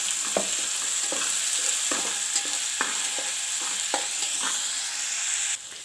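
Ginger garlic paste fries in a pan for a Bihari-style egg masala. A steady, bright sizzle runs throughout, broken by regular scraping stirs of a spoon, and ends suddenly as the heat drops.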